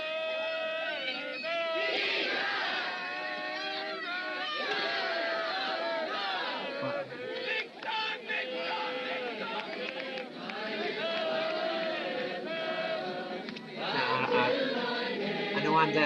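A large crowd at the Munich Olympics shouts the Jesus cheer in loud rhythmic unison, with voices swelling and falling over the stretch, dense and somewhat distant.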